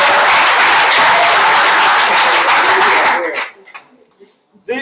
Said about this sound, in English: You're welcome to applaud that.